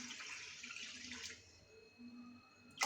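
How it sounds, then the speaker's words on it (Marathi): Water poured into a cooking pot flows for about a second in a close, splashy stream, then stops, leaving faint room tone and a small clatter at the end. "त्यामध्ये पाणी टाकते मी"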